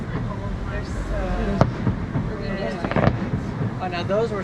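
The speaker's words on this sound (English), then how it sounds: "Oh, now those were some fancy fireworks." Fireworks show seen from the Grand Californian Hotel, with a few sharp distant explosion pops and crackles over steady crowd murmur, while people chat nearby throughout.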